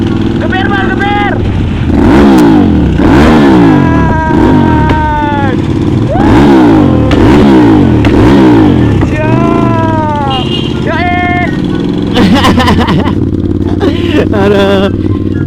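A big motorcycle engine revs repeatedly, rising and falling in loud bursts, with people talking and cheering around it.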